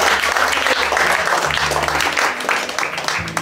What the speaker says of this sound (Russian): так что аплодисменты. Спасибо.